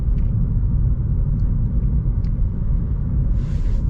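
A 2024 Audi A3 with a dual-clutch gearbox rolls along at low speed, heard as a steady low cabin rumble of engine and road noise with faint ticks and a brief soft hiss.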